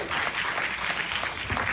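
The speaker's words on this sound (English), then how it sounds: "Give them a round of applause if they go to their seat." Audience applause at a church-style speaking event, a dense steady wash of clapping filling the room for a short burst, with no voices on top.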